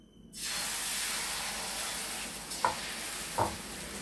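Thin tapioca dosa batter sizzles steadily on a hot pan, a continuous broadband hiss starting just after the batter is poured, with two brief scraping clicks near the end.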